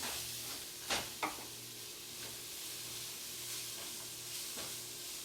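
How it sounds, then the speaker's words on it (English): Onions and garlic sweat gently in a pan for spaghetti sauce, a soft, low hiss with two sharper clinks from a utensil near the start and quiet stirring afterward. "gonna throw our onions and garlic in there. Gonna sweat those down"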